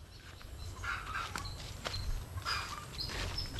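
Chickens with chicks, stirred up by a dog, give faint scattered clucks and chirps amid light rustling and movement at a distance.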